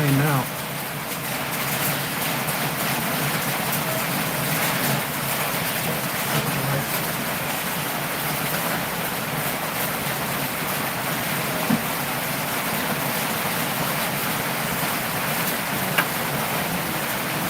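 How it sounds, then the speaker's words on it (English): Rain pours steadily outdoors in the Philippines, a continuous loud hiss of falling drops that holds evenly throughout, with faint background activity underneath. "You can definitely hear the rain now."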